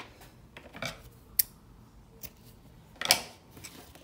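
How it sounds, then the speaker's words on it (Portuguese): Scissors snip crochet yarn in a couple of crisp, quiet clicks, separated by brief pauses amid faint handling noise, with no talking. "Agora, eu vou cortar o fio."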